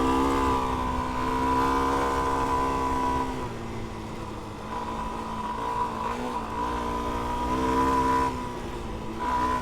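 A Suzuki DR-Z4s dirt bike engine revs on singletrack among rocks and sand, a loud, close, steady buzzing drone with small rises and dips in pitch, with no talking.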